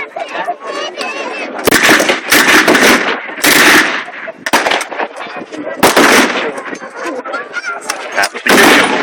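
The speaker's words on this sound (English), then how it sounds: "the Browning machine gun making the Germans keep their heads down" A Browning machine gun fires at a WW2 re-enactment at Dover Castle, loud bursts of rapid shots alternating with short pauses, echoing outdoors. A voice talks over the gunfire.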